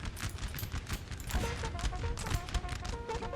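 Musket volleys crackle in Napoleonic Total War III, with many overlapping shots firing in ragged bursts at middle distance over a dense battlefield din.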